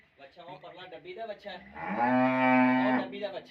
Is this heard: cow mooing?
yes